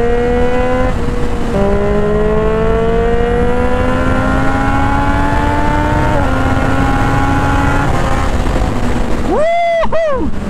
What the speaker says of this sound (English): My god, this exhaust is beautiful.